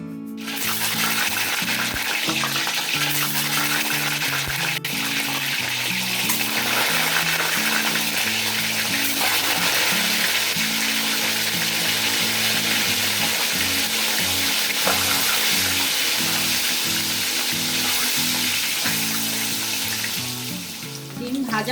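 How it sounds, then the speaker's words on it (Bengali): Eggs frying in hot oil in a kitchen pan, a loud, continuous crackling sizzle with dense spattering, close and steady throughout with no talking. "তেলটা এখানে গরম হয়ে গেছে, আমি ডিম ছেড়ে দিয়ে ভেজে নেব।"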